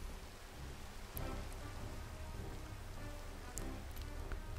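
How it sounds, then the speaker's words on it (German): Steady rain falling in Minecraft during a hardcore-mode session, a constant close hiss of drops with brief sharp ticks, no voices over it. "So, der Regen hört aber nicht mehr auf hier"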